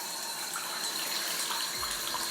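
Hot water runs steadily from a tap into a bathroom sink as it fills, a close, continuous splashing hiss with no talking.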